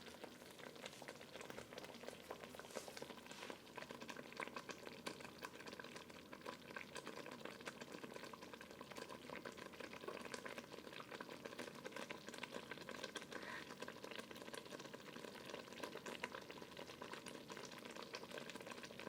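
Banana jam boils in a pot with a faint, continuous bubbling and sputtering that stays steady and close throughout, with no voices.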